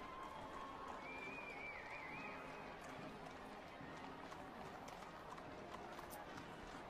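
Horse hooves clip-clop in a steady rhythm during a royal wedding procession in Stockholm, a continuous trotting patter beneath a murmuring crowd and faint distant voices.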